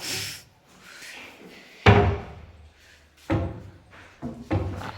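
A new wooden furniture cabinet door that will not close properly is pushed shut, giving several hard thuds and knocks spaced over a few seconds, with quieter handling between them.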